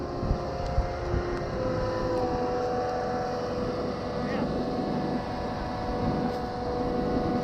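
The diesel engine of a 38 meter concrete pump truck runs steadily at raised RPM at a job site, a continuous broad rumble with wind noise and no talking.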